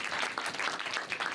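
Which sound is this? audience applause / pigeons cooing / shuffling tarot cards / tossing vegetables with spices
audience applause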